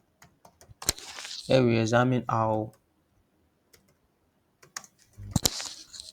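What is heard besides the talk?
computer keyboard typing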